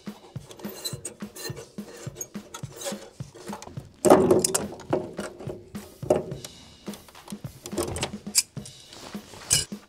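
Connections are undone on a drained, electrically isolated boiler with its control wiring, giving rapid, regular ticking and clicking plus a louder rattling burst partway through.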